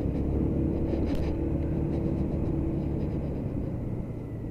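A Lexmoto Titan 125cc motorcycle rides over bumpy town roads with a steady low engine rumble and wind roar that stays constant and close throughout, with no talking.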